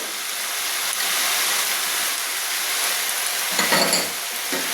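A pan of banana flower curry with turmeric, cumin and chili powder sizzles steadily and loudly, with a brief scrape of stirring near the end.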